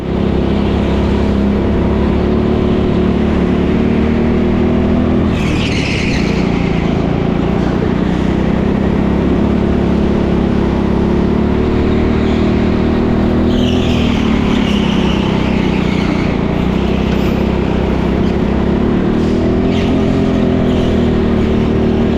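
Go-kart engine droning loudly and continuously through a lap of the TeamSport Leicester indoor track, with pitch rising and dipping through corners and occasional sharper accents of revving.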